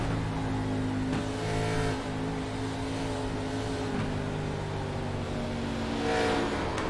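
A race car's engine drones steadily from on board in a racing game, a loud continuous tone with mild shifts in pitch.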